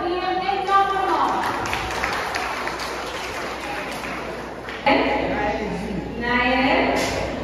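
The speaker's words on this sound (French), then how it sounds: "Je vous prie de les applaudir énormément." Audience applause fills a chapel during a spiritual concert, a steady wash of many hands clapping that swells near the end while a voice speaks over it.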